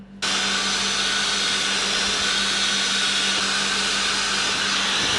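A hair dryer blow-drying short hair starts abruptly and runs as a loud, steady, close-up whooshing roar with a constant motor hum for several seconds.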